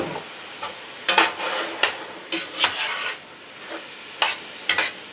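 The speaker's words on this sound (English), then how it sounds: "you just keep stirring this around and flipping it over every couple of minutes until it cooks down" Beef Wellington filling is stirred and flipped in a pan with a utensil, giving a series of sharp scrapes and clatters over a soft sizzle, with no talking.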